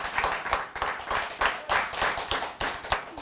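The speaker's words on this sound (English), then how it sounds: "Give her a round of applause." Studio audience on a live astrology TV show clapping, with a dense burst of hand claps that swells in rhythmic waves, close and lively throughout.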